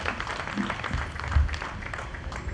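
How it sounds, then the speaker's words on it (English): Applause at a World Culture Day 2022 event for Mr. Charles after his presentation, a short burst of crowd clapping at moderate volume. "Another round of applause to Mr. Charles"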